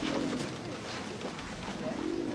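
A pigeon-like bird coos softly in low, rounded calls, close and fairly quiet over a background hiss, in a scene from the television series Press Gang.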